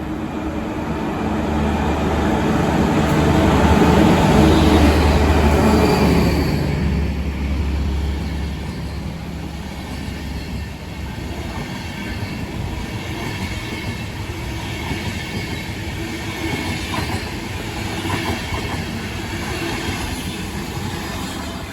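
The Intercity Allgäu passenger train passes through Amstetten station, a loud rumble that swells and fades over the first seconds, then a long steady clatter and rolling of wheels on the rails.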